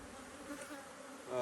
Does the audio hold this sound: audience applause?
no